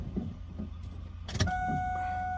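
A 1998–2002 Chevrolet Camaro is started after a key is turned, a brief burst of cranking and catching followed by a steady low idle hum with a faint whine.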